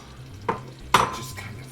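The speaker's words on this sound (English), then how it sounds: "your butter's melting and you're starting to get a nice sizzle. Let's get that sausage that we've rounded up in the pan." Sausage meat dropped into a pan of melted butter, giving two sharp sizzling bursts as it hits the hot fat, near and fairly loud, with a softer frying hiss and faint clatter between them.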